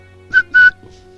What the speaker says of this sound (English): Check the whistle out.